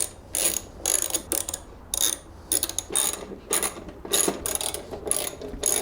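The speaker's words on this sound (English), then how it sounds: "we're gonna need a 12mm socket to take all 4 of the bolts off" A socket ratchet with a 12mm socket works bolts loose on a Honda Rebel 1100, sounding as repeated quick ratcheting bursts close up, in short rhythmic strokes with brief pauses.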